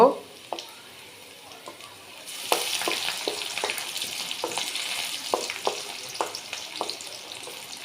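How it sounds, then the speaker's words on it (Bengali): Onions and dried chillies frying in oil in a pan for a cabbage dish, a steady close sizzle that swells after a couple of seconds, with intermittent clicks and stirring scrapes and no talking. "আমি এখানে পাতাকপির পেঁয়াজটা লাল করে নিতেছি আর কিছু শুকনা মরিচ দিছি"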